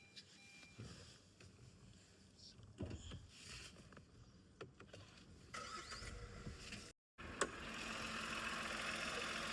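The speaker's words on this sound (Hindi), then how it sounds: "उसकी इंजन की नॉइस मैं आपको सुनाता हूँ।" A Tata Punch facelift car engine hums steadily inside the cabin, with scattered knocks and rattles, a brief dropout, then a louder, even drone.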